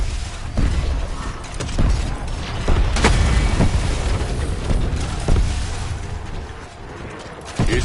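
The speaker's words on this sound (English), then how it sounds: "I've long become numb to the sound of explosions." Heavy booms and crashing blasts roll on continuously in Voyage of Despair, with several sharp impacts over a rumbling, chaotic background of game combat.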